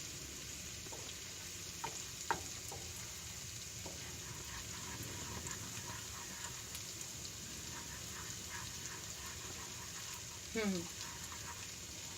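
A pot of Turkish yogurt soup being stirred: faint scraping and gentle liquid sounds over a soft, steady simmer, with a few light clinks of the utensil against the pot.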